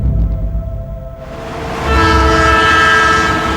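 Train pulling into a station at Chiang Mai: rumbling wagons and clattering wheels close by, then a loud sustained horn blast rises and holds over the rolling noise, with no voices.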